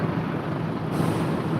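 Bus air brakes hiss in a steady broadband rush at a busy roadside restaurant on the Sumatra highway, loud and close with a slight change partway through, no voices.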